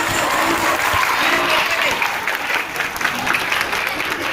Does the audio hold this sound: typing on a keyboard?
no